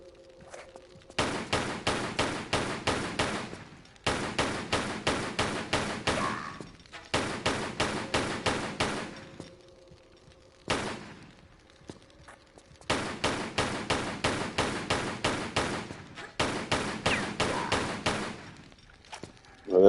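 Gunfire in Tomb Raider 3, loud rapid bursts of repeated shots in five long volleys separated by short pauses, with a single brief shot in the middle.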